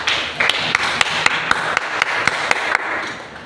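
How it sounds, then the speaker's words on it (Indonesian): Classroom applause: a group clapping hands in a quick, fairly steady rhythm with a few sharp, louder claps standing out, fading toward the end. "Bagus, tepuk tangan untuk Vivi."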